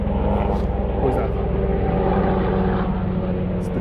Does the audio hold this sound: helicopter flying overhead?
yes